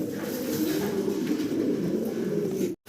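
Male and female pigeons coo in courtship at close range, a continuous low throaty burbling that runs steadily for nearly three seconds before a brief cut.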